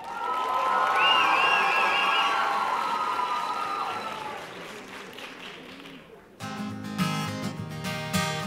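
Audience applause and cheering fill a hall at the 2013 Orion Music Awards show, a loud dense wash of clapping that fades after about six seconds before music starts.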